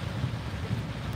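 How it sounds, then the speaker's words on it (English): Heavy rain pours down outside a vehicle on the road, a dense, steady roar that fills the whole second with no talking. "Yes, it is pouring."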